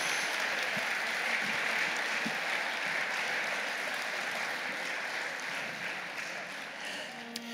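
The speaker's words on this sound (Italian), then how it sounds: "Allo standardo della banda, un applauso grande, enorme." Steady, dense applause from an audience at a brass band's 30th anniversary celebration in Buie, a continuous wash of many hands clapping without a break.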